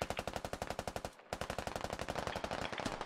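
Rapid automatic gunfire in a Squad game operation, a rhythmic burst of evenly spaced sharp shots that pauses briefly near the middle, then resumes in a longer, faster string of rounds.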